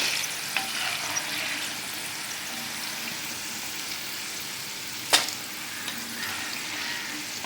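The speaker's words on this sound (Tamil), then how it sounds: "நல்லா வெந்ததும் பார்த்திங்கனாக்கா எண்ணெயில் அப்படியே மிதங்கும்." Chana dal deep frying in hot oil, a continuous bubbling sizzle with a single sharp scrape or clink near the end and a few fainter taps, heard close with no talk.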